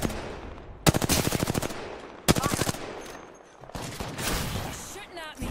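Bursts of rapid automatic gunfire in Apex Legends, two sharp, loud volleys of closely spaced shots followed by scattered, more distant firing and game effects, with player chatter mixed in.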